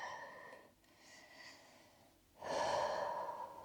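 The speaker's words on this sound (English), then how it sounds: "And a deep breath in." A slow, deep inhale through the nose during a yoga practice, soft at first, then swelling into a louder, breathy draw near the end, close and alone.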